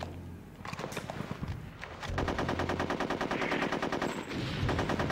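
Dual SMGs in the N64 game Conker's Bad Fur Day fire in sustained, rapid automatic bursts that start after a short pause and stay loud and dense until the end.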